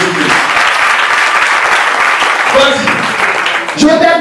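A church congregation applauding during a sermon, loud sustained clapping from a full room, with voices calling out over the applause toward the end.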